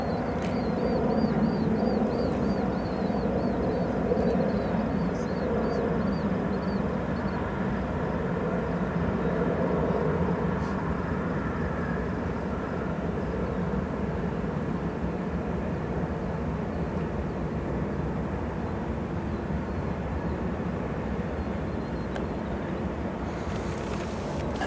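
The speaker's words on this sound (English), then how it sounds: "We have a 757 departing." A Boeing 757 departs from O'Hare airport, a sustained broad engine roar that holds steady and loud throughout with wind buffeting, and no talking.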